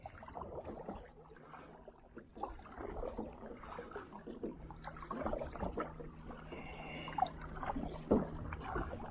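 A kayak paddled across a calm lake, with soft irregular paddle dips and gentle water swishes, quiet and close, over a faint low background hum and light water trickle.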